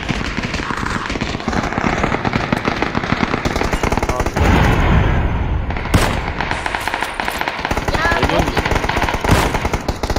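Rapid bursts of automatic gunfire and single shots from a video game shooter with headshots landing, loud and continuous across the whole stretch, with a voice talking over the shooting.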